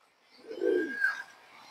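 An old Bagha-line pigeon gives a single soft, low coo that swells and fades within about a second, alone and fairly faint.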